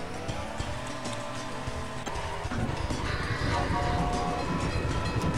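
A train in an old Windows 98 video game, a continuous rumbling rail roll with a brief tonal horn-like note, steady and fairly loud throughout, without talking.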